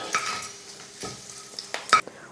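Cut dried red chillies drop into hot oil with fried chana dal for a beans poriyal tempering, giving soft sizzling with a few sharp stirring and spoon scrapes against the pan.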